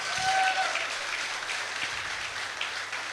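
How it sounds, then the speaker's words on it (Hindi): Audience applause for the management company Royal India Vacation at a corporate sales meeting, a steady wash of clapping from a crowd filling the room, with a brief tonal whistle-like sound early on. "मैं चाहता हूँ रॉयल इंडिया के लिए भी जोरदार तालियां"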